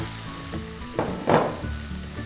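Okra and brinjal drop into a hot pot for Udupi sambar, setting off a loud burst of sizzling that swells twice and then settles into a steady frying hiss.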